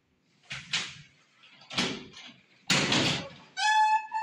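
Police opening a door during a raid on a residence: several close knocks and thuds of the door, a loud clatter, then a ringing electronic tone like a doorbell or buzzer at the end.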